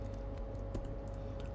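Quick, light keystrokes on a computer keyboard while code is entered, a short run of soft clicks over a steady background hum.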